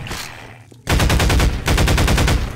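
Rapid automatic gunfire in Half-Life 2, aimed at a light: two loud, close bursts of quick repeated shots separated by a brief pause, after a short quiet moment.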